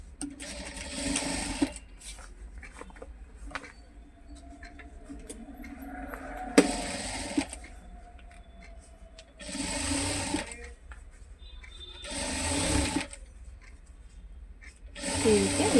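A sewing machine stitches cloth for a four-cut handbag in short whirring bursts separated by quiet pauses, close by, with faint rustling of fabric between runs.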